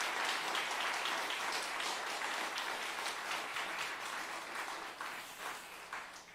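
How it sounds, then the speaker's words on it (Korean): A church congregation gives a hearty round of clapping during a Sunday afternoon service, steady at first and then loosening into irregular claps as it fades out. "마지막 한 번 더 힘차게 박수해 주세요."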